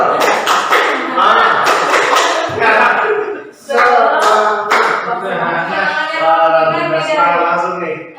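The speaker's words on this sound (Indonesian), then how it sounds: "Oh, tepuk tangan" A school class claps hands in a run of quick, close taps early on, and voices chant and talk over and after the clapping in a classroom.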